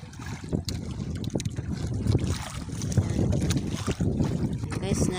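Water rushes and sloshes steadily close by around a boat at dusk, with wind buffeting the microphone and a few faint voices underneath.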